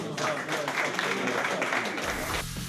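At a 2019 Kirovohrad regional football awards ceremony, a dense burst of audience applause fills the hall for about two seconds, then cuts off abruptly into a low, quieter tail.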